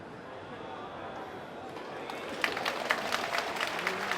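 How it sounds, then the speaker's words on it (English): Scattered applause breaks out from a snooker crowd at a professional semi-final, starting faintly and swelling into steady clapping in the second half, with some murmuring from the audience. "Well, applause, but is it warranted?"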